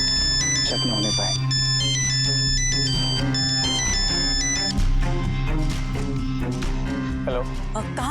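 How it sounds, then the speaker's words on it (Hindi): A phone ringtone plays loudly as a repeating melodic tone pattern, layered over a dramatic music bed for about eight seconds, with no talking heard. "भाई तू फोन उठा"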